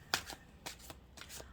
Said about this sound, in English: So let's just give them a quick shuffle.